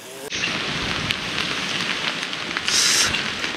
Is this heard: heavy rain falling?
yes